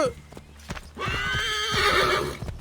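A horse in the video game Assassin's Creed 3 gives a loud, close whinny that rises and holds for over a second, following a few hoof clops.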